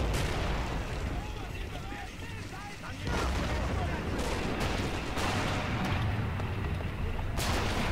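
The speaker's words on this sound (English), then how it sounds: "Still some artillery explosions coming off from the outskirts of town." Artillery explosions in the World War II strategy game Men of War Assault Squad 2, dense continuous booming and gunfire rumbling throughout a Stalingrad street battle, with someone talking over the din.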